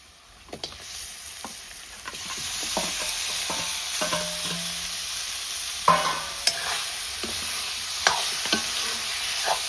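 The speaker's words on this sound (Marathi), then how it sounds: "आणि चिकन ओतते त्याच्यात" Chicken frying in Malvani masala tempering, stirred in a pot over a wood-fired stove; a steady close sizzle with scraping stir strokes and clanks, no talk.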